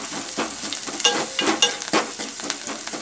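Small onions and curry leaves frying in sesame oil, a continuous close sizzle with crackles and occasional stirring scrapes, steady and moderately loud, no voices.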